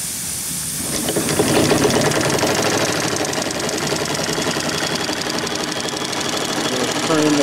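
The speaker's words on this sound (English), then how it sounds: "We'll turn on the engines here a little bit." A scale model steam donkey engine with its boiler running, hauling in a log: a loud, steady, rapid mechanical chugging and knocking layered over continuous steam hiss, starting after a brief quieter moment.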